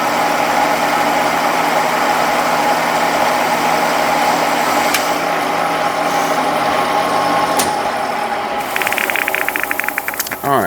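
A guide bushing spins on a lathe while being filed by hand, a steady, close machine drone with a constant broadband hiss throughout and a few brief scraping flickers near the end.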